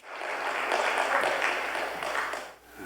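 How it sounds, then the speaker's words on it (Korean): Church audience applauding to welcome a guest lecturer at a special talk, a full, steady roll of many hands clapping that swells, holds, then fades out near the end. "우리 박수로 환영합시다"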